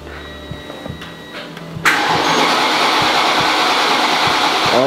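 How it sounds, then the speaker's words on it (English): A Mercedes-AMG GT engine cranks and catches, jumping from quiet into a loud, steady, close roar that holds without a break. "Oh my god, it's cranking."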